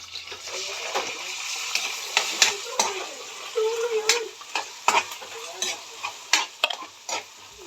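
Corned beef stir-fried with chayote in a pan, giving a steady close sizzle with repeated scraping and stirring clatter from a utensil in irregular bursts.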